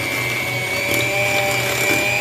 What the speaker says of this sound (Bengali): তা আমি প্রথমে হালকা হাতে এটাকে একটু ব্লেন্ড করে নেবো